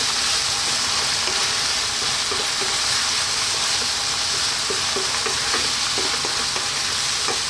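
Ground cumin, turmeric, coriander and chili powder fry in a hot pan for a red lentil dal, giving a loud, steady, close sizzle with small crackles and faint stirring taps throughout.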